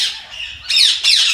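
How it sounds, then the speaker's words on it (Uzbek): Ajreli birds in an aviary give harsh, loud squawks close by, with two or three strident calls in quick succession over faint low background noise. "Bu yerda bunaqa ajreli qushlar boqilayotgan."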